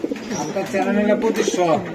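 Box-beaked pigeons coo in a close, throaty rolling phrase, under talk.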